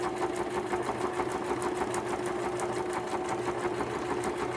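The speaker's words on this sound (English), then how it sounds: "Sorry for the sewing machine noise, guys." A sewing machine runs continuously at a fast, even stitching rhythm, close and steady with a mechanical whir, no voices.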